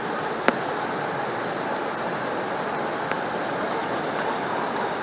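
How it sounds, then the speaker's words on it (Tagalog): Steady heavy monsoon rain during a flood, a constant even hiss of downpour with a couple of faint sharp ticks, no voices. "Walang tigil pa rin ng ulan."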